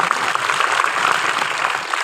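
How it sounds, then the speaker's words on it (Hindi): Lively seminar audience in Lucknow clapping together in a continuous, even wash of applause, fairly loud and close with no pauses. "तुम्हारी खुद के लिए जोरदार तालियां बजा दो एक बार"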